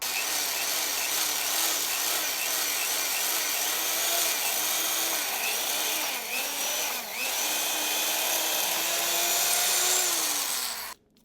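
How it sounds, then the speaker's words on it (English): A power drill boring a pilot hole into a 2x4 in a home garage, running steadily and loudly at close range for about eleven seconds with slight pitch wavers, then cutting off abruptly. "And then you're going to drill a pilot hole."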